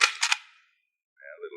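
Gunfire in a 1949 western film: two or three sharp, ringing cap-gun style shots crack in quick succession up close and then fade. A short pause follows, then a faint whistling or ricochet-like tone.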